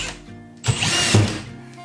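A power drill drives a screw during a home renovation, one close, loud burst of motor whine with a second surge as the screw seats, and no talk over it.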